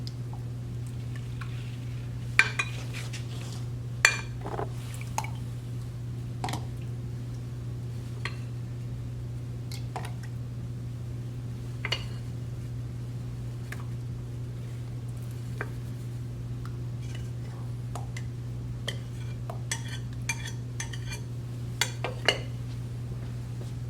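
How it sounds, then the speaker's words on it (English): Soap mixture is stirred in a container with intermittent clinks and scrapes of a utensil against the sides, faint and irregular over a steady low hum. "may take a while to stir up"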